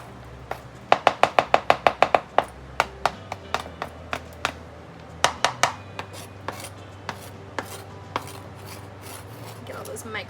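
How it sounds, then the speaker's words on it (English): Milk and dark chocolate pieces stirred into cookie dough in a bowl, a quick run of sharp clacking taps at first, then slower scattered scrapes and knocks against the bowl, close and fairly loud. "now we're gonna combine the chocolate, our milk chocolate and dark chocolate"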